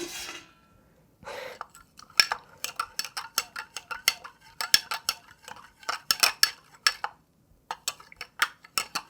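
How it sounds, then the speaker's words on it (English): A spoon stirs calcium carbonate paste into madder root dye in a pot, making a rapid run of close, crisp clinks and taps against the container after a brief soft rustle. "Give it a nice, good stirring."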